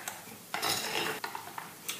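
A spoon stirs a flour mixture for pita flatbread dough in a bowl, producing close scraping and swishing strokes with a few light clinks, loudest in one sustained stir mid-way.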